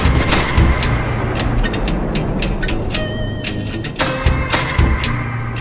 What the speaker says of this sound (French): Willy, tu charges le canon?